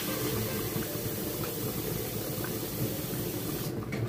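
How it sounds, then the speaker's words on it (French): Water poured steadily into a cooking pot of Cameroonian beef kondrès with plantains, a continuous close rushing splash that holds at even loudness throughout, easing slightly at the very end. "Donc, on va rajouter de l'eau."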